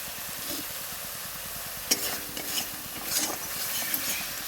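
Curry sizzling steadily in oil in a pan, with occasional scrapes and clinks of a spoon stirring, close and continuous, no voices.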